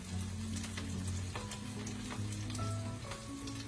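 Prawn hotcakes frying in a pan, a steady close sizzle with fine popping crackles throughout, under quiet tonal background music.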